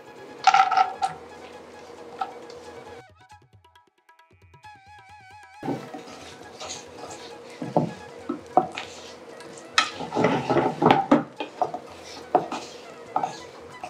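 Coconut pieces and cashews fry in a pan for pumpkin milk payasam, with clattering metal utensil scrapes and knocks over a gentle sizzle, a quiet lull midway, then busier, louder stirring.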